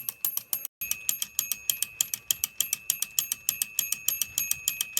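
A Tyco 937 HO model railroad crossing bell mechanism striking rapidly and evenly, a bright metallic ringing tick repeated about four to five times a second after a brief pause, close and alone.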